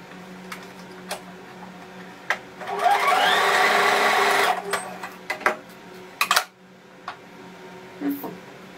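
A sewing machine runs in one sustained burst of fast stitching, about a second and a half, while joining pieces of a fox-shaped baby comforter toy, with small handling clicks and taps before and after.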